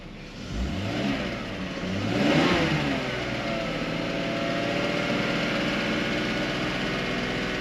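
A 2001 BMW E46 325i wagon engine with a coolant leak and lean codes revs up once, rising and falling, then holds a steady, fairly loud drone.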